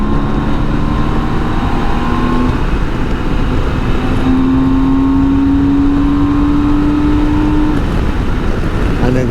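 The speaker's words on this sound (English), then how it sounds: "And then thunderous acceleration." A BMW K1600GTL motorcycle accelerating hard: a loud, steady engine roar runs throughout, with its tone climbing through the middle as speed builds, over constant wind rush.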